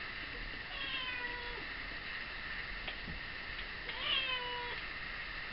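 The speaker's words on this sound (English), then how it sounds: "My cat wants an empty food packet." A roughly seven-month-old cat meows for an empty food packet, giving several drawn-out, fairly close meows in two bursts against a quiet background.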